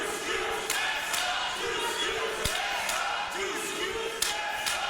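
A wrestling crowd at London Comic-Con during a women's match, loud steady cheering and chanting filling the hall, with rhythmic claps, shouts and a single heavy thud from the ring partway through.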